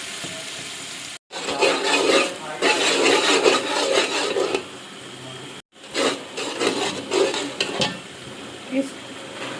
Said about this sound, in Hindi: और हम टमाटर ऐड कर लेते हैं, इसको थोड़ा सा भून लेते हैं।